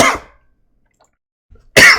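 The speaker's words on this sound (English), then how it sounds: "Sorry guys for that cough." Two harsh, close coughs from one person, the first fading away, followed by a long silence and a small breath before the second, louder burst.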